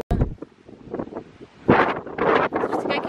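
Strong gusts in a village buffet the microphone with loud, uneven rumbling bursts that rise and fall over about three seconds, swelling hardest in the second half.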